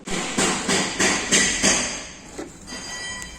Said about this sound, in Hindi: तो चलिए सबसे पहले हम इसमें एक छेद काट लेते हैं 76 mm का